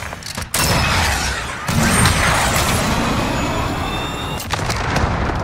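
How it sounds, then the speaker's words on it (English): A cruise missile strike in Call of Duty Modern Warfare lands as a loud, dense roar of explosive rumble and crackling debris, with a sharp boom near the start and another surge midway, sustained throughout. "Cruise missile away."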